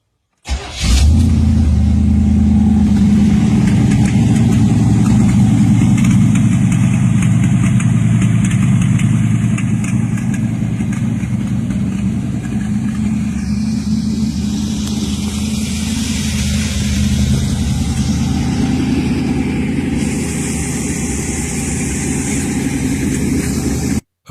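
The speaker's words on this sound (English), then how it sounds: "this 1975 Chevy Boogie van is powered by a 350 small block with a 4-barrel carburetor" A 1975 Chevrolet G20 van with a 350 small-block V8 and four-barrel carburetor runs steadily at idle, a deep continuous rumble close by with a slight rise in revs partway through and no voices.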